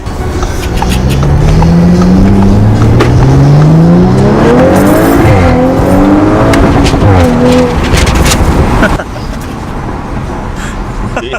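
A 2019 Audi RS5 accelerates hard through the gears with loud, rising engine revs and quick shifts, then the note drops to a lower drone near the end. Scattered sharp transient clicks suggest exhaust crackles, and a voice can be heard under the engine.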